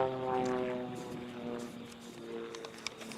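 An Extra aerobatic airplane flies overhead at an aerobatic championship, its propeller engine giving a faint, steady droning hum with harmonic tones from a distance, without speech.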